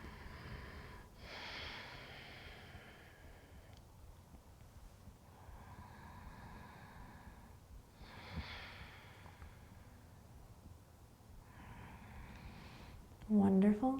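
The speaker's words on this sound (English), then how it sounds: "Take a couple breaths here to really squeeze the legs up towards your head, your heart." Slow, deep breaths during a gentle yoga practice, with long airy inhales and exhales at a steady pace under soft instructional speech.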